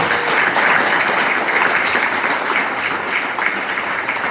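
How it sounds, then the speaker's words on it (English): Loud, dense round of applause from an audience honoring speakers at a leadership event, continuous even clapping filling the space without speech. "Can we give them a round of applause for today?"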